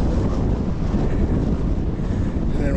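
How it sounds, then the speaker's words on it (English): Strong outdoor wind buffets the microphone in a continuous loud roar with no clear voices, heard at an open sightseeing site in Azerbaijan. "It's very windy."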